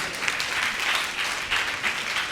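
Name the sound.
congregation clapping in church service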